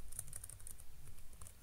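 Keys tapped on a computer keyboard while a password is entered during a software install, a quiet, quick run of light clicks with no voices.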